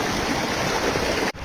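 A Ladakh river fed by melting snow rushes steadily, a loud, close, broadband flow of water that cuts off abruptly near the end.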